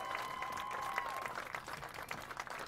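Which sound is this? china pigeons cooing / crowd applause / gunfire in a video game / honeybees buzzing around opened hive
crowd applause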